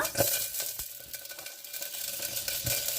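Cumin seeds in hot oil inside a pressure cooker on a stove, a continuous crackling sizzle at moderate loudness with occasional small knocks, and no voices.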